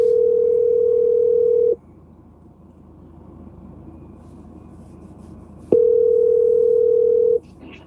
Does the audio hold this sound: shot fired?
no